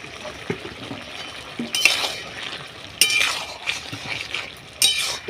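A spoon stirs a thick Bengali banana flower and prawn ghonto in a pan after sugar goes in, giving a few sharp metallic clinks and scrapes over a soft background sizzle.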